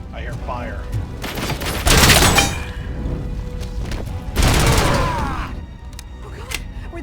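Gunfire in the RoboCop video game: two loud, dense bursts of shots with clanging impacts, separated by a calmer stretch of lower game noise.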